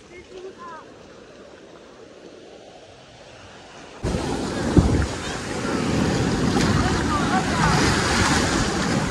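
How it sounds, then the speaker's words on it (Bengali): Large high-tide sea waves at Bakkhali beach make a broad roar. The sound is quieter at first and then jumps to a loud, close rush of surf and wind buffeting, with people talking over it. "এখন বকখালিতে অসাধারণ বড় বড় লেভেলের ঢেউ দিচ্ছে, কারণ এখন জোয়ার আসছে।"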